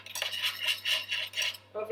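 Hot melting butter stirred in a metal pan, a steady rhythmic scraping and clinking of utensil against metal repeating several times, close and fairly loud.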